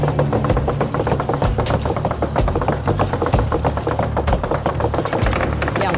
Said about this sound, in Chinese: 两边都在剁肉